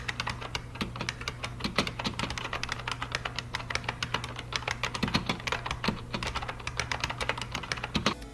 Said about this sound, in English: Here's a sample of how the buckling springs sound.